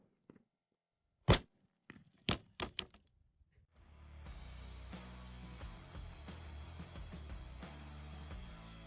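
A .410 shotgun loaded with four shells fires them at once, giving a few sharp, loud cracks early on, followed by a steady broadband rumble of outdoor noise with no speech.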